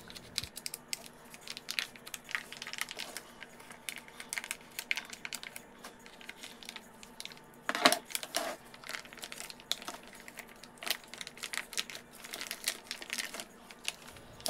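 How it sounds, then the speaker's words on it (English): Plastic bag wrapping is pulled off bone-in baby back pork ribs, giving soft, irregular crinkling and rustling close by, with a brief louder crackle midway and no talking. "We have to take the baby back rib out of the plastic bag, of course."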